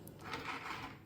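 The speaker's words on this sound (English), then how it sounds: "This is also a drawer" Kitchen drawer slides open with a brief, soft wooden rub and rasp, quiet and close.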